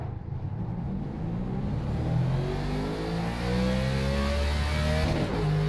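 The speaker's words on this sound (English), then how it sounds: "The cup car revs to about 9800 RPM, so you want to be shifting at just before that point." NASCAR Cup car at Talladega in the iRacing simulator, its engine revving and climbing steadily in pitch as it pulls away, then shifting up near the end, alone and continuous at moderate level.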